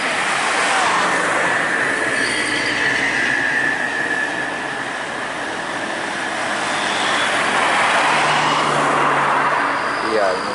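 A Pelangi intercity bus on the Aceh–Medan–Jakarta–Bandung route roars past on a highway, a loud continuous rush of engine and road noise swelling near the start and end over about ten seconds.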